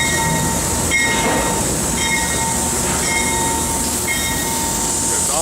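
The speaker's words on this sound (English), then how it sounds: "here comes another locomotive. Diesel, nothing on top." A diesel locomotive rolls past at a rail station, its steady loud rumble and rail noise filling the clip continuously, with faint wheel squeals and metallic tones over the constant roar.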